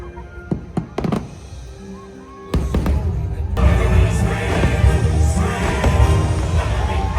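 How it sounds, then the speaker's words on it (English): Fireworks at Mickey's Not-So-Scary Halloween Party: a few sharp separate bangs, then a sudden loud continuous barrage of booms and crackles that keeps rolling, with crowd noise mixed underneath. "10 o'clock, the fireworks started. They were incredible."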